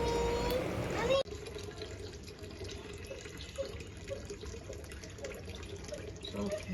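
Tap water runs steadily into a sink while small rohu-type carp are washed at home, a soft continuous stream heard close by after a brief louder burst at the start, with faint voices in the background.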